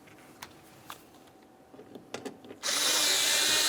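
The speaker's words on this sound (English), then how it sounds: "Now that we're sure it's completely seated, we can start remounting each one of the screws." A cordless power drill drives mounting screws into a 1998-2011 Ford Ranger door during lock actuator replacement; after a few faint taps and clicks, a loud steady whir starts and holds to the end.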